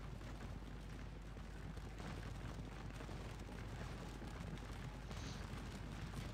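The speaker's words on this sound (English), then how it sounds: "I think your artillery's pounding at it as well" Allied artillery bombards Hougoumont in the Scourge of War: Waterloo game, a dense, continuous low rumble of distant cannon fire and booms with no talk.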